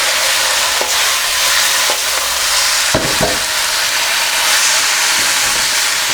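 Sauce hits the hot pan of vegetable chow mein with a loud, steady sizzle that fills the whole clip, broken by a couple of brief clatters near the middle.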